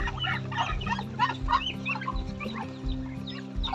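Chickens and ducks at feeding time on a Filipino backyard farm, a busy chorus of overlapping clucks and quacks close by, steady throughout with no talk.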